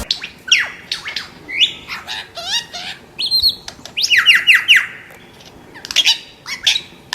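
A superb lyrebird mimics other birds' calls: a rapid, varied run of loud nearby squawks, whistles and chirps in irregular bursts, with short pauses between phrases.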